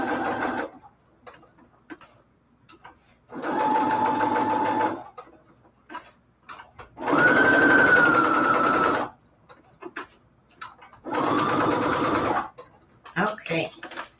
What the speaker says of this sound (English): Okay, let's sew this one more time.